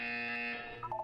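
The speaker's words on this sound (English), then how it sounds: "You will hear a buzzer." A buzzer from the video game Portal 2 blares as a steady, harsh electronic drone, then cuts into short broken bursts near the end, clear and prominent without any talk.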